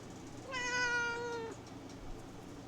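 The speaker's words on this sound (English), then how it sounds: "Come meow for the microphone." Pet cat Lexi lets out a single drawn-out meow, close and clear, about a second long with a slight downward bend at the end, in an otherwise quiet room.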